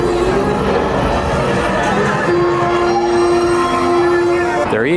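The Slinky Dog roller coaster train rumbles past loudly on its track, with steady roar, rattling and a high wheel squeal building near the end.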